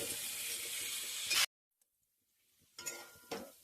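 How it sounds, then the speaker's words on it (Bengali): Potatoes fry in mustard oil in a pan with a loud, steady hiss for about a second and a half. The sizzle cuts off abruptly, and a few quiet utensil clinks follow. "এবার তেলের মধ্যে আমি আলুগুলোকে ছেড়ে দিচ্ছি। এবার চলো আমরা আলুটাকে লাল লাল করে ভেজে নেব।"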